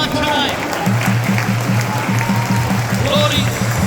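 A church congregation claps hands in steady rhythm during a New Year's worship service, the loud clapping running continuously beneath a worship leader's voice.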